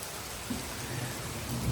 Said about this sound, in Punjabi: ਬਹੁਤ ਭਾਰੀ ਮੀਂਹ ਪੈ ਰਿਹਾ ਆ ਪੰਜਾਬ ਦੇ ਵਿੱਚ